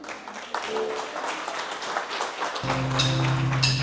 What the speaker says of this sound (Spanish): Con esas palmas y con las voces.